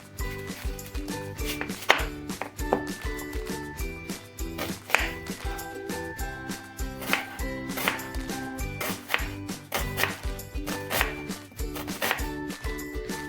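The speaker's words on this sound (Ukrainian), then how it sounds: "Нарізаю цибулю." A knife chops an onion steadily on a cutting board in quick repeated strokes over soft background music.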